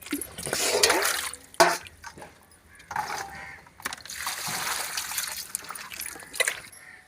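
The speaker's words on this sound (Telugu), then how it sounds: "శుభ్రంగా నీట్గా కడగాలండి" Tap water runs and splashes while cauliflower is washed for a fry, the flow surging and easing in uneven bursts with sloshing in a bowl, close and fairly loud.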